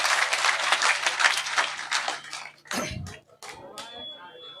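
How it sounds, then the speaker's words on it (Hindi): Rally crowd at a village public meeting in Rajpur claps loudly for a few seconds, the applause fading out before brief scattered noises and a voice. "एक बार और दोनों हाथ उठाकर जोरदार तालियों के साथ अपने बेटे अपने भाई को"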